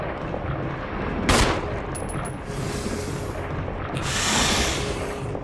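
Gunfire from the Resident Evil video game rings out in a few separate bursts. One loud, sharp shot is followed by longer blasts of noise over a busy, rumbling background.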